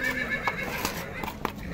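At a busy horse market in Chui, Sokuluk, a horse lets out a faint, drawn-out whinny, with a few soft hoof clops and general market murmur around it.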